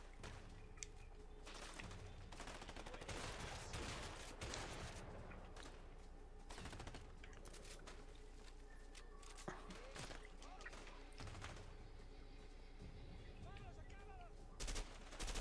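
Rapid gunfire from the video game A Way Out, dense bursts of shots and automatic fire running nearly continuously, loud and close with brief lulls and scattered thuds.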